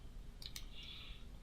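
Two quick computer mouse clicks sound close together, faint against a quiet room hiss, with no talking.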